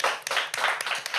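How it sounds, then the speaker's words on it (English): Studio audience applause for a children's spelling champion on a kids' educational show, a short burst of steady clapping with a few sharper individual claps, fairly close and alone with no talk. "Let's give him another round of applause."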